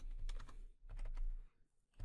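Keystrokes on a computer keyboard while typing a name into Fusion 360 software, a quick run of close, crisp clicks with a brief pause near the end.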